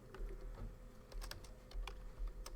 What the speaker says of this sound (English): Let me see if I start typing check collision.